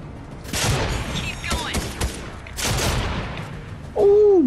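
Bursts of shotgun fire from a Striker pump shotgun in the Fortnite video game, two loud broadband blasts with echoing tails, followed by a brief tonal game sound at the end.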